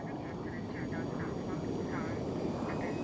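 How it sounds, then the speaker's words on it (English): An aeroplane droning overhead with a steady roar and wavering engine tones, continuous and moderately loud, with faint voices mixed in. "She flies in an aeroplane."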